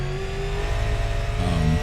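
Super Late Model race car engine in the iRacing video game, a loud sustained mid-pitched roar that drops briefly then climbs again as the revs rise, heard alone.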